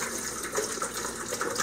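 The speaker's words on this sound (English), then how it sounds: "put the water right up to the top of that, right up to that spout" Bottled water poured into a coffee maker reservoir at a lodge, a steady close splashing stream of liquid running throughout with no talk.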